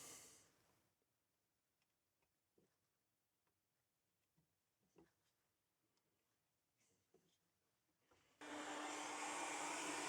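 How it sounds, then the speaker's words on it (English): A hot air rework tool set to 330 degrees warms an Amiga 600 circuit board. A loud, steady rush of blown air runs briefly at the start, then falls away to quiet light clicks, and the airflow returns strongly at the end. "heat the board gently and just pop them off some hot air"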